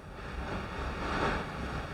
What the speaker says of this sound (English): there's some car with some tarpauling and it's like really windy